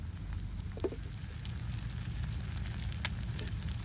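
Giant tongue fish tawa-frying over a low flame, a steady soft sizzle with a few faint pops and crackles, close and unbroken, no voices.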